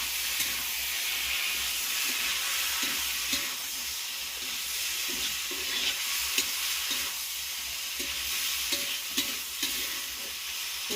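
Potatoes frying in hot oil in a pan, a steady close sizzle and hiss under repeated scraping strokes of a stirring utensil, with no talking.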